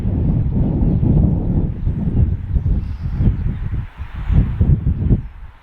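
Steady wind buffets the microphone in loud, rumbling gusts that swell and ease over several seconds, with no voices.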